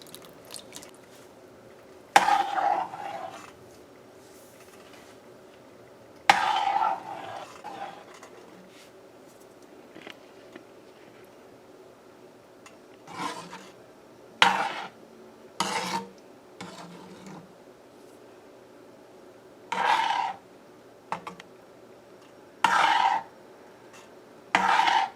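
Halwa made with evaporated milk is stirred in a pot on the stove, with a spoon scraping and knocking against the metal in short bursts separated by quiet pauses, close and fairly clear.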